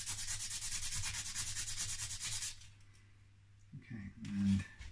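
Filing or sanding the nut of a Fender Player Telecaster during setup, a steady close rasping scrape for about two and a half seconds, then quieter handling rubs and a few brief knocks.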